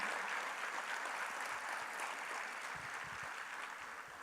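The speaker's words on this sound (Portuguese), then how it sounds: "Você pode celebrar a Deus nesta manhã com as suas palmas." A church congregation claps through a Sunday morning worship service, a steady wash of many hands blending into one broad, fairly distant sound with no clear individual beats.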